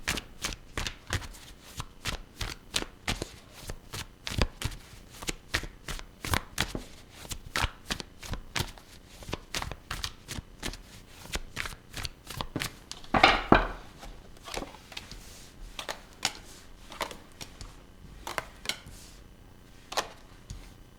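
Tarot cards are shuffled close up in rapid, crisp riffling bursts for about twenty seconds, with one louder flurry of cards midway and no voices.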